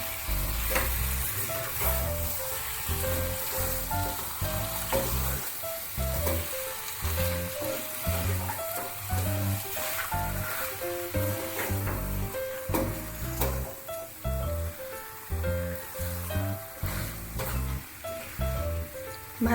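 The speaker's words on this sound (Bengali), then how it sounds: "টমেটো কেচাপ দেওয়ার পরেও চিকেনের সাথে ভালো করে মিশিয়ে নেব।" Chicken coated in tomato ketchup sizzles steadily in a hot pan while a utensil stirs it. Close, continuous frying hiss with repeated scraping strokes and no voices.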